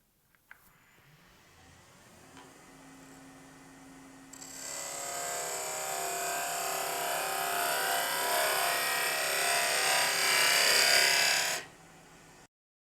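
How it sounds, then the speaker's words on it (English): A wood turning gouge cuts tapered end grain on a spinning lathe spindle: after a quiet motor hum, a loud, even, high scraping cut runs for about seven seconds, then stops abruptly as the lathe keeps humming. "I'm simply going to have the gouge in the right orientation so it won't grab, and I'll be pushing it in this direction along with bevel contact"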